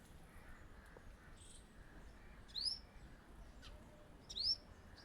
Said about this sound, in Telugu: పక్షులు